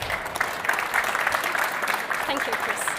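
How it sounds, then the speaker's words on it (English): An audience at a business technology talk event gives a warm round of applause, a continuous bright clatter of many hands under a faint layer of voices. "So please people give a warm round of applause for Cyrielle Böttcher and Ghazaleh Kia."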